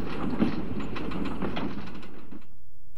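A train running along Indian railway tracks gives a steady rumbling roll with faint rhythmic clatter, loud and close for most of the passage before dropping away abruptly near the end.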